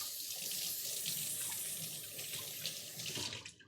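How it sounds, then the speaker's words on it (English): Tap water runs steadily into a sink as boiled eggs are rinsed beneath it, a close, constant splashing hiss that tapers off at the end. "I'm gonna rinse these eggs real quick,"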